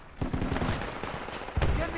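Rapid gunfire in the Project Reality military shooter on a Vietnam map, a dense burst of automatic shots and cracks amid a noisy battle, with a heavier blast near the end.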